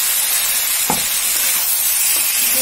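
A paste of ground onion, garlic, ginger, dried chilli, coriander and cumin fries in a pan for rui fish curry, a loud continuous sizzle with a couple of soft scraping stirs, no talk.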